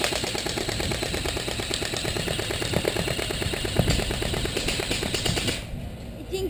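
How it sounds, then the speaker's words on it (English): An M4A1 airsoft rifle fires full-auto at a gasoline-filled beer can outdoors: a loud, continuous rattle of rapid mechanical shots for about five and a half seconds, then it stops and only a faint background hum remains. "Little airsoft, little gasoline in a little beer can."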